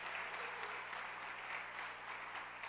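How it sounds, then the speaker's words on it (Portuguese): A church congregation claps for their reverend during a service, a steady, full wash of applause that holds at an even level throughout, with no voices over it. "Os irmãos podem aplaudir pela vida do nosso reverendo mais uma vez?"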